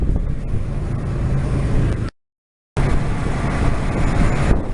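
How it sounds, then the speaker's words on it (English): Loud, steady boat engine drone with rushing noise on a river crossing, briefly cut to silence midway before resuming just as loud. "That's a very noisy engine."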